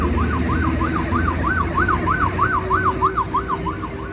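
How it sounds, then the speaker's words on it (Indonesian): An ambulance siren wails loudly with a fast, steady up-and-down yelp over road and engine noise on the Gumitir road, continuing throughout without voices. "Nah, ini ambulan."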